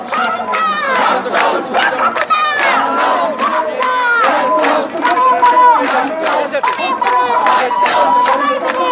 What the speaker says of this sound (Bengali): তারা রাস্তা অবরোধ করে তালে তালে তারা স্লোগান দিচ্ছে, মিছিল দিচ্ছে